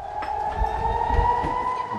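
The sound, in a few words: rocket attack warning siren in Ashdod, Israel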